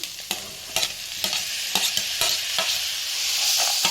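Tomatoes frying in oil for a sprouts curry, a steady sizzle with sharp spoon scrapes against the pan every half second or so, close and clear with no talking.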